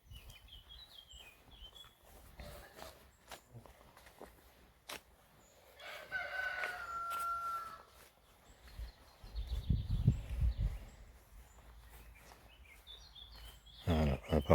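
In calm Breton countryside, a rooster crows clearly at mid-distance while small birds chirp and twitter faintly around it, with quiet gaps and some low handling noise between calls.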